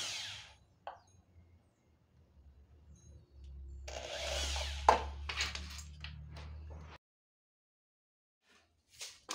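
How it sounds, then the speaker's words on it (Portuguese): A power drill bores holes into a small wooden panel, whirring steadily for about three seconds before cutting off, with quieter handling noises around it. "agora que eu vou furar esse aqui"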